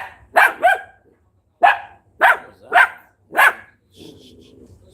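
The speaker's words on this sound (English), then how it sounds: "Sorry about the dogs." Several small dogs bark in short sharp bursts, close by, followed by a faint whine and rustling.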